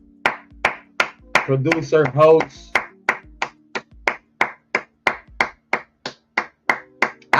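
Hands clapping in a round of applause, sharp individual claps in a steady even rhythm, close and loud, with a person talking briefly near the start.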